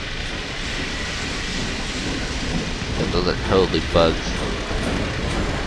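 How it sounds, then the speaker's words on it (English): A train rumbles steadily past in the Half-Life 2 co-op game, a continuous broad mechanical roar with rail clatter running throughout while people talk over it. "And there's a racer train."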